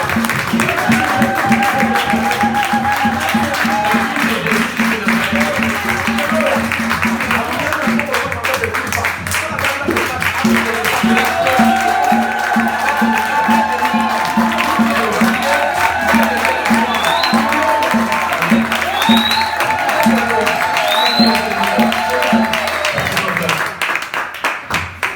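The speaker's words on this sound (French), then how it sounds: "Applaudissons lui" A church congregation applauds steadily and loudly for a long stretch, with crowd voices and sustained music mixed in throughout. The clapping thins out near the end.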